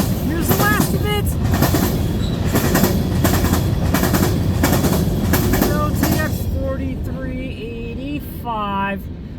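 A CN freight train led by an SD75I rebuild rolls past at Ladysmith, Wisconsin, at night, a loud steady rumble with wheel clatter and a few squeals, with people talking and laughing over it toward the end.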